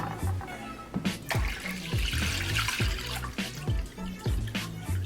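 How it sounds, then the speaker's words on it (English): Water is poured into a glass baking pan set up as a water bath for chocoflan: uneven splashing and trickling with repeated dull knocks against the glass, fairly close. "we're just going to put water on our glass pan"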